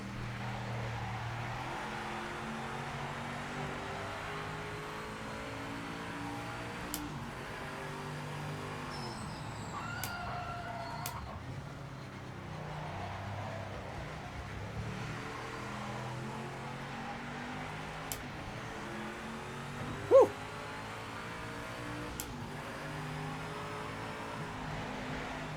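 A Nissan 300ZX race car in the Project Motor Racing game gives a steady, droning engine note with rising and falling revs, heard alone at moderate level, with one brief sharp bump near the end.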